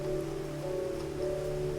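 Steady rain pours down in a constant hiss, with a low tonal hum running beneath it, and no voices.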